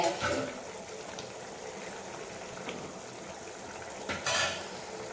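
Egg gravy simmering in a pot on the stove gives off a soft, continuous bubbling and sizzling hiss. Faint clinks of utensils rise now and then.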